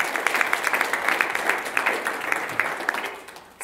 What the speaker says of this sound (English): If we can give her a round of applause and a warm welcome.